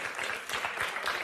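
A brief burst of audience applause during a French slam contest, dense clapping at a steady level across the short stretch.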